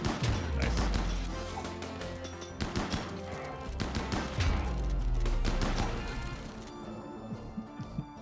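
A grenade going off in RimWorld amid a chaotic fight, with loud crashing impacts and clusters of sharp bangs and gunfire repeating throughout.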